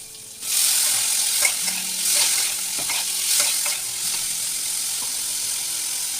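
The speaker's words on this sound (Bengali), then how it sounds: "দিয়ে একটু ফ্রাই করবো, ভাজা ভাজা হবে" Boiled chicken pieces fry in a pan with onion, ginger and garlic paste, a loud continuous sizzle close up with repeated scraping stir strokes over several seconds and no speech.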